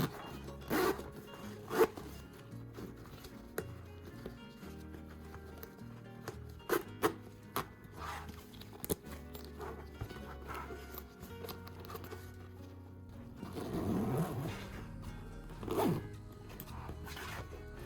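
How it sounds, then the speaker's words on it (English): A zipper slider is run repeatedly up and down a zipper after a repair, giving a series of close, raspy zipping strokes with brief pauses between them and no speech. "Then slowly zip it up and down, making small adjustments until it moves smoothly."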